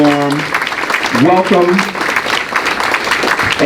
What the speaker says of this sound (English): Let's give Commissioner Moaney another round of applause